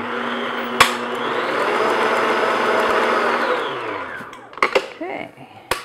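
An electric mixer whirs steadily while beating glossy, stiff Swiss meringue marshmallow frosting with pure vanilla extract, a continuous motor drone for several seconds, framed by sharp knocks and clatter at the start and as it winds down.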